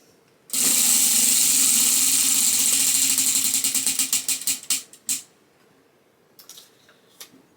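A prize wheel is spun and whirs in a steady buzz of rapid clicks that gradually slow and space out, ending in a few last ticks before stopping, with light handling noise afterward.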